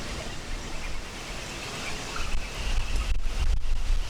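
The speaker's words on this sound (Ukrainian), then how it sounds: "В принципі, непоганий вітер." Steady wind gusting over the Dnipro river, a broad rushing roar that swells louder near the end, with no talking.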